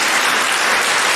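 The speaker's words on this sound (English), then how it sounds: "no doubt she deserves the applause." Brief, loud wash of audience applause for a teenage student's opening speech at a school debate competition, dense even clapping from a crowd with no pauses.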